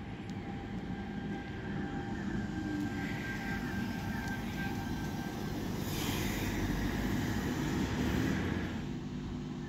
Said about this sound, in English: V45 is this train here.